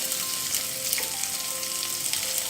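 Small onions with green chili, ginger and garlic sizzle steadily in a hot pan, a close, even frying hiss with light stirring and no talk.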